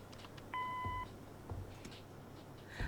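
A single short electronic answering machine beep sounds in the game Kathy Rain, a clean steady tone lasting about half a second over quiet room noise, followed by faint soft clicks and rustles.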